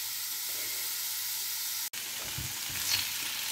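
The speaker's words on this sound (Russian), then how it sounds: "На ужин сегодня жарю картошку." Potatoes fry in a pan for a dinner meal, a steady close broadband sizzle with a brief dropout near the middle and some faint stirring clatter afterward.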